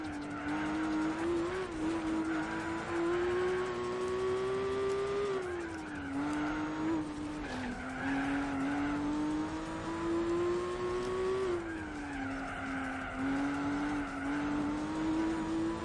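A race car in Gran Turismo 4 laps the Nürburgring in a 4-hour endurance race, FPV F6 entry: loud continuous engine drone that rises and dips with gear changes, under a steady wash of tire and road noise.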